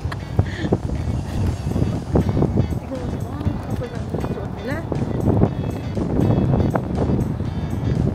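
Wind gusts buffet the microphone outdoors at Nagashima on a chilly day, a rough steady rumble with bursts, mixed under people talking and greeting each other nearby.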